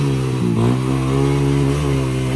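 Trail motorcycles on supermoto tires drone steadily at close range as they strain on a slippery uphill road, the engine note swelling briefly in a rev before settling back to a strong, even hum.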